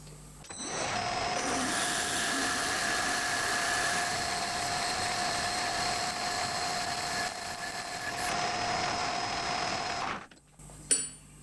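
Metal bar stock is drilled on a lathe for a model aircraft engine piston. A steady machine whine with tonal harmonics runs for about ten seconds, then stops abruptly, followed by a brief clunk.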